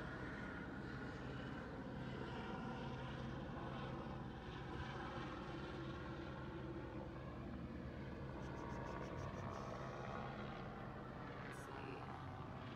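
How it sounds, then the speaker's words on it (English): A helicopter hovers over a residential neighborhood during a police hostage standoff, its steady rotor and engine drone filling the air continuously at moderate distance with no clear change in loudness. "Helicopter is starting over my pool at 1:37 p.m."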